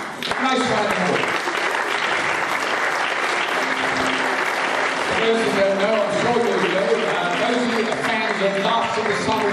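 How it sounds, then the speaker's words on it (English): An audience at an awards ceremony claps in a dense, loud, sustained round of applause while background music plays throughout. "Nice round of applause."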